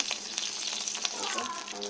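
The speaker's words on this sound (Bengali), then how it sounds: "তেল দিয়ে দিলাম কড়াইতে।" Oil for frying hilsa fish sizzles and crackles steadily in a wok, close and constant, with a voice briefly audible underneath near the end.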